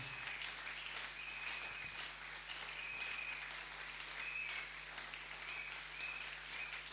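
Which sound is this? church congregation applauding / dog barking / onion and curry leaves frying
church congregation applauding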